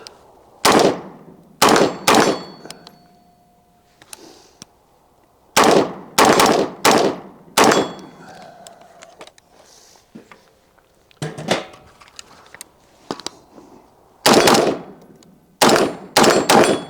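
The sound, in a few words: gunshots fired from a gun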